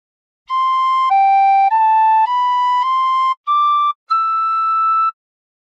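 Tin whistle playing a short phrase of God Defend New Zealand: seven clear, sustained high notes in a steady stepwise melody, with brief gaps between some notes, loud and alone with no voices.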